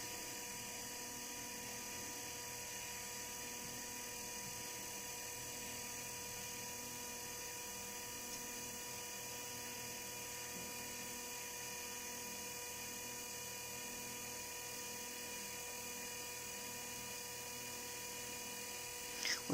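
A hybrid magnet motor drive segment runs at steady speed, giving a faint, even electric whine with stable tones and no change throughout, alone without talk.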